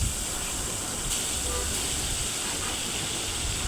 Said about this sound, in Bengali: এখন এক এক করে চিংড়ি মাছগুলোকে ভেজে নিতেছি